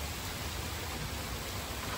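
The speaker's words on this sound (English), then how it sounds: "these drops are just big raindrops and it hasn't turned into hail" Heavy rain of large drops pours down steadily outdoors beside a garden, a dense, constant hiss close by with no pauses and no voices.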